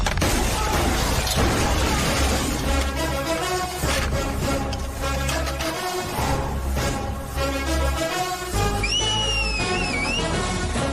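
A man whistles in a rising and falling tune near the end of a scene from a Hindi-dubbed South Indian action film. The whistle sits over loud, dense music and booming effects that run throughout.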